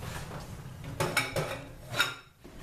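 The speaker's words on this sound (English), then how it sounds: "now I'm going to put the brown sugar in and stir it around until it's dissolved as well" Spoon clinking and scraping against a pot or bowl while brown sugar is stirred into a salmon cure brine, a few bright metallic knocks over a steady background hum.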